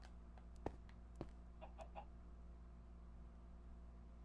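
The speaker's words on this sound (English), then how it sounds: "I hear a chicken." A chicken clucks a few times with short soft calls, faint and somewhat distant, against a quiet indoor background hum.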